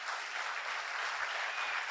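Applause for Kenny and his wife at a remembrance event: a continuous, even roar of many hands clapping, fairly distant, with no break.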